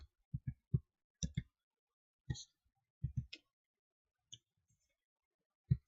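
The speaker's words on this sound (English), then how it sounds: "Now just type here printf." Keys tapped in short irregular bursts on a computer keyboard while entering a C program, each keystroke a sharp, close click separated by brief pauses, heard alone with no voices.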